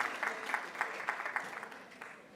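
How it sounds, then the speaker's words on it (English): Audience applause at a panel session on big tech companies and multinational organisations at a Nigerian e-government event, a fairly faint, steady patter of clapping with scattered sharper claps, lasting a couple of seconds. "Please give him a round of applause."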